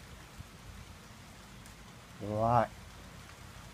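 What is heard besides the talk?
rain falling during sun shower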